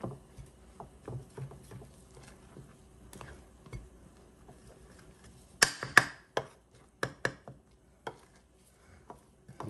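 Dumplings for chicken and dumplings are chopped up in a pot with a utensil, producing scattered soft thuds and taps, then a brief cluster of louder scraping knocks that give way to sparse, quieter clicks.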